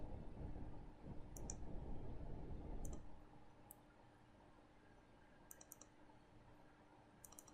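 A few sharp, faint mouse clicks land in isolated pairs on a quiet Windows server setup for Cisco UCCE 11.5, with a low background hum that drops away after the first few seconds.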